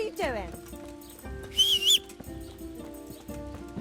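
In the medieval video game Kingdom Come: Deliverance, a short sliding whistle cuts in for about half a second among horse hoofbeats, neighs and game voices talking.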